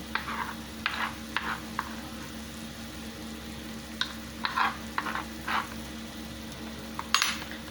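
Garlic sizzles steadily in a pan, a soft constant frying hiss broken by intermittent scrapes and clinks of a utensil stirring it, close but fairly quiet.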